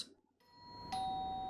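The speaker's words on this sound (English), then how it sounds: "Was that the doorbell?" A video game doorbell rings once with a bright, sustained electronic chime over a low background hum, fairly quiet, with no talk.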